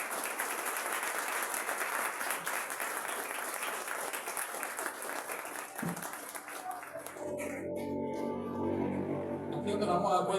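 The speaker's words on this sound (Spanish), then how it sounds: "Dile un aplauso al Señor." A church congregation applauds in a loud, sustained burst of clapping that fills the room, then fades after about seven seconds into softer scattered sounds and background murmur.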